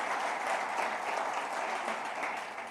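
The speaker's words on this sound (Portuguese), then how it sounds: "Você pode aplaudir ao Senhor por essa palavra" Congregation applauding at a church celebration service, a steady, dense wash of clapping that holds evenly for a few seconds and tapers slightly at the end, moderately distant with no voices over it.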